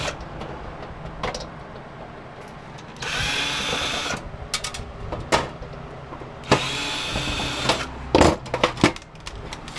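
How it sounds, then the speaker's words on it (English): A power screwdriver or drill backs screws out of a satellite dish receiver casing in several whirring bursts of a second or so each, close and fairly loud, separated by quieter handling clatter. "I always start by just getting all the screws out."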